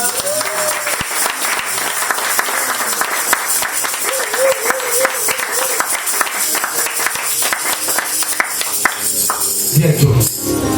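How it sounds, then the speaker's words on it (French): A church congregation applauds through a worship service with sustained, dense clapping that runs the whole stretch, while voices and cheering ring out over it and a louder burst comes near the end. "Acclamons."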